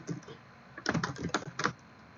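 Typing on a computer keyboard while editing code in Visual Studio 2013, with light scattered keystrokes followed by a few quick bursts of clicking, close and moderately quiet.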